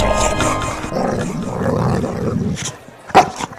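A dog growls and barks in a few rough, loud bursts close by, with a sharp bark near the end.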